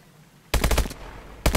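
Call of Duty: Advanced Warfare gunfire: a rapid automatic burst of about half a second, loud and close, then a short pause before a second burst begins.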